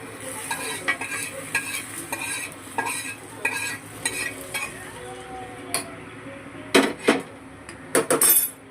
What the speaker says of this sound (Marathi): याला हलवून असं ढवळवून घेणार आहे